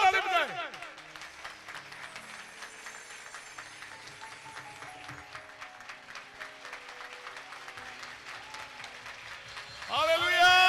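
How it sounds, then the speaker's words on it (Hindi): Church congregation at a gospel service clapping hands together in a broad, steady patter of applause that runs throughout, mixed with music and singing voices, with a voice rising at the end. "दो से ताली बजाएं।"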